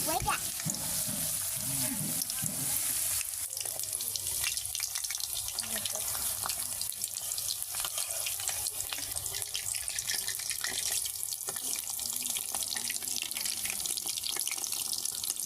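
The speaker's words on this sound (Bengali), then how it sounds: "এই যে আমরা গরম তেলে পাকোড়ার মিশ্রণটি ছেড়ে দিলাম।" Potato pakora batter fries in hot oil, a dense continuous sizzle and crackle heard close up with small clatters of stirring and no talk.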